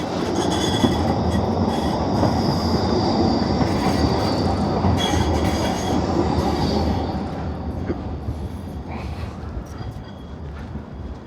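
A Vienna train runs on rails with a loud continuous rumble, wheel squeal and rhythmic clatter, heard up close from on board and easing slightly toward the end.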